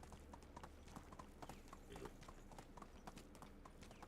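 Horse hooves clip-clop steadily at a quiet, even pace while riding in the Medieval Dynasty video game, faint and continuous, with a muffled voice low in the background.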